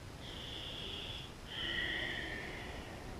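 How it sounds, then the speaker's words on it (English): Deep, audible breaths during a total-body stretching session, a long drawn inhale followed by a slightly louder exhale, close and alone with no talk. "You should be able to hear that breath."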